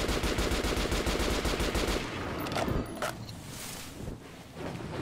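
Rapid automatic gunfire in the video game Metro Last Light Redux, a loud sustained burst for about two seconds followed by scattered single shots and quieter rumble.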